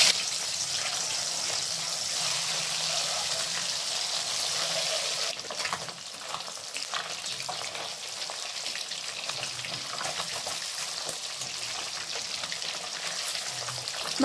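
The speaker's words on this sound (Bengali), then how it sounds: "এরপর বাকি মাছের পিসগুলো ভেজে নিচ্ছি।" Katla fish pieces fry in oil, making a continuous soft sizzle and gentle bubbling hiss that stays even and close throughout, with no one speaking.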